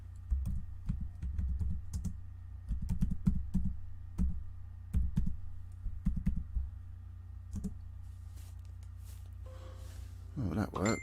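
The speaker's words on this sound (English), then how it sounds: "let me type something." Quick bursts of typing on a computer keyboard clatter close by in uneven runs over a steady low hum, with a brief vocal sound near the end.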